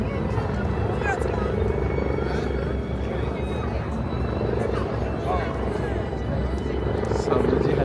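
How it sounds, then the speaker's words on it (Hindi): A helicopter flies over Hong Kong, a steady loud rotor drone that continues without a break, with background crowd babble and voices. "ये एक हेलीकॉप्टर भी उड़ता हुआ वहाँ पे आ रहा है।"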